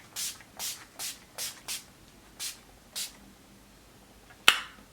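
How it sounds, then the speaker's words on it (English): Urban Decay All Nighter setting spray mists in seven short, crisp pumps at an uneven pace, close to the mic, followed by a single sharp click. "I'm going in with the Urban Decay All Nighter Setting Spray."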